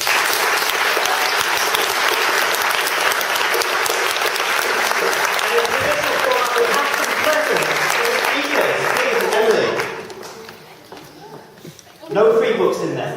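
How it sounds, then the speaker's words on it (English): Loud, sustained audience applause for speakers at a lecture event, a dense roar of clapping that fades out near the end before a brief burst returns, with voices murmuring underneath. "Please give a big round of applause to Amanda Ridout, Alison, Baverstock, Lovell, Meike Ziervogel,"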